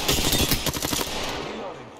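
Rapid automatic gunfire in Apex Legends, a loud close burst of shots in the first second that trails off into fading echoes.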